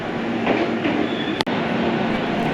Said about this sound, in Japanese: やってきたのは、特急名鉄岐阜行きの電車になります。